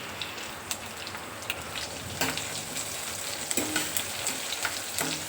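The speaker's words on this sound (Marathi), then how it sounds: "आता आपण हे परतून घेऊया कमीत कमी अर्ध्या मिनटासाठी" Garlic, green chilli and curry leaves sautéing in a hot pan give a steady broadband sizzle and crackle, with a few sharp spatula scrapes and pops rising above it, close and fairly loud, no voices.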